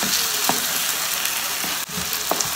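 A steady, loud sizzle of tempering spices frying in hot oil for Punjabi baingan bharta, crackling continuously with a few sharper pops and spatters.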